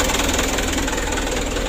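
A small engine idles steadily after a plunger adjustment, following a cleaning of jelly-like oil sludge that made it hard to start; a close, even, rapid knocking throb with slight vibration and no speech.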